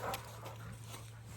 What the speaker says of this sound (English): So he's playing right now with a dog named Simon.